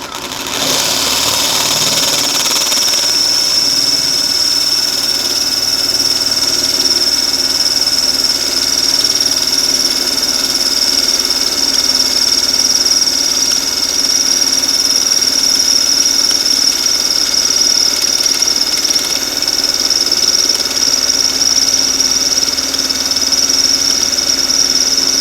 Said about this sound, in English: we want to drill out the heads of these pop rivets